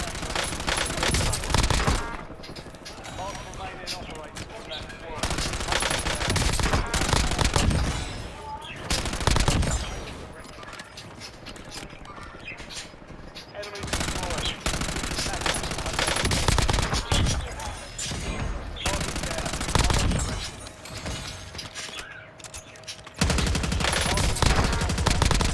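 Close-range hip-fire gunfire fills a match of Call of Duty Warzone on Rebirth Island, with dense bursts of automatic shots layered over continuous loud game action.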